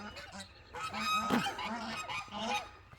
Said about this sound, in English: There go my geese.